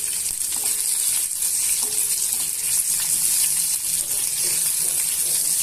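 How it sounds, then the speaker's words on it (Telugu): Crushed garlic cloves frying in oil in a pan, a steady bright hiss and crackle running without a break, with faint clinks here and there. "ఇప్పుడు ఇందులోనే దంచి పెట్టుకున్న వెల్లుల్లిపాయ రెబ్బల్ని కూడా వేసుకొని వేయించుకోవాలండి"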